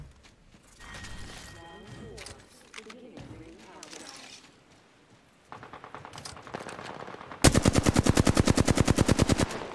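Automatic weapon fire in a first-person shooter video game, short bursts mixed with game effects and talk, then a loud, rapid sustained burst of machine-gun shots close up.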